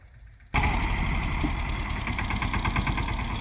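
A tractor engine starts up abruptly and settles into a steady, loud idle with a rhythmic mechanical chug and vibration, heard close by and continuing without pause.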